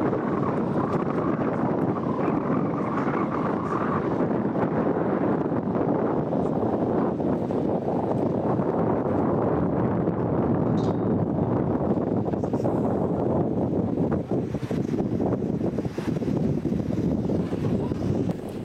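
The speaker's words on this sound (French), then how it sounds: "Sur les toits de Paris, la force du vent est bien supérieure à celle que l'on ressent dans la rue." Strong wind on Paris rooftops, high on a dome, roars and buffets the microphone in a continuous dense rumble, loud and unbroken for the whole stretch.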